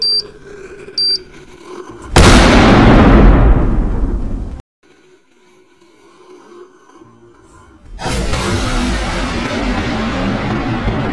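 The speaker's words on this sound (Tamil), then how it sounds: "இப்போ இந்த டப்பால தான் அணுகுண்டு வெடிக்க போறோம்." An atom bomb firecracker explodes inside a tin with a loud, sharp bang, followed by a roaring, crackling burn that cuts off, then a second loud rushing blast continues steadily.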